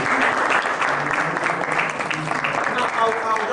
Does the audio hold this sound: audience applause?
yes